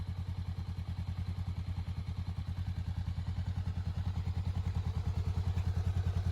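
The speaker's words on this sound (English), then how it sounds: "here is the engine for Honda Rebel." Honda Rebel motorcycle engine running at a steady, low idle, a deep rhythmic thumping pulse that carries on evenly with no voices.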